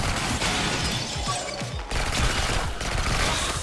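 Upgraded gun in the video game Mullet Mad Jack firing a dense, continuous volley of rapid shots, loud and close, with shattering crashes of destroyed targets mixed in and no talk.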